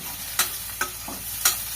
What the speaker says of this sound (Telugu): పచ్చిమిరపకాయలు కూడా వేసేసుకున్నాను.